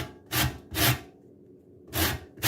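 A lemon is rubbed against the smallest holes of a grater in three short, rasping strokes with a pause between, close and fairly quiet.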